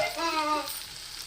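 Chicken pieces frying in a pan for chicken fried rice, a brief close hissing sizzle with a sharp bright crackle that quickly fades to a softer simmer.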